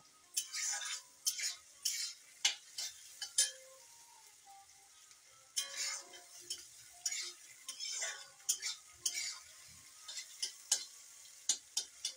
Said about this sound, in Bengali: দেখো পেঁয়াজটা আমার ভাজা হয়ে যাচ্ছে।